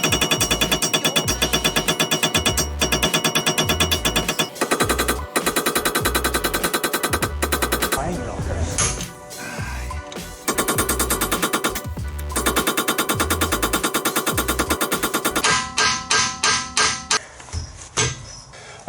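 Repeated hammer blows strike a steel socket tapped onto a broken engine part, loud, sharp metallic impacts in fast bursts that pause and resume, with no talking.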